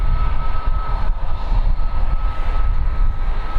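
An arriving airliner at Birmingham Airport roars loudly and steadily, a broad rumbling engine noise with a faint tonal whine, heard close with no talk.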